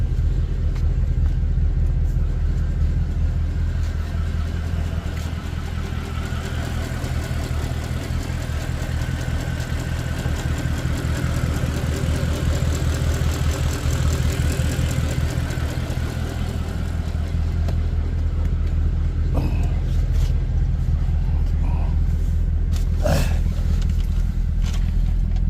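A Mercedes-Benz C63 AMG or S350, recently fitted with a reworked ECU, runs steadily at idle with a close, even, low engine drone and faint rattling ticks; it stays unchanged for the whole stretch, with a few brief clicks near the end.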